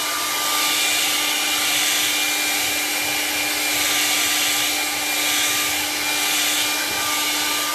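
Hair dryer blowing steadily on a painted canvas, a loud, continuous whirring hiss with a faint high whine that holds constant throughout with no talking.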